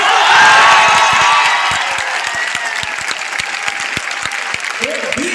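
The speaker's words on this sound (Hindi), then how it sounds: "क्या हम उसके लिए खड़े होकर एक बार ताली नहीं बजानी चाहिए?" A lecture-hall audience claps loudly all together, the dense applause swelling first and then thinning into scattered claps, with some cheering mixed in.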